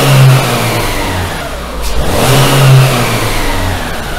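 Renault Megane 2 engine, under inspection for a suspect cam phase regulator, is blipped hard: a steady engine note swells into a sharp rev around the middle, then falls back toward idle, loud and close with no talking.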